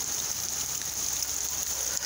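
Steady rain falls outside a house, a continuous even hiss with faint patter of drops, fairly close and alone with no talk.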